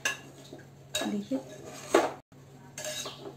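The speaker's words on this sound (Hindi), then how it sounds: "अब इसका ढक्कन खोलते हैं" Metal clanks and clatters from the lid of a pressure cooker being opened after pulao has cooked inside, a few distinct knocks close by, with a brief spoken word in the kitchen.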